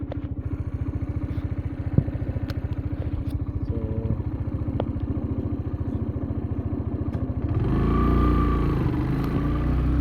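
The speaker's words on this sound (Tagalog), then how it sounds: "Pasensya na kung masyadong maingay yung motor ko" A motorcycle engine idles with a steady, rapid, low putter on a New Zealand dairy farm, then revs up into a louder, rougher roar near the end.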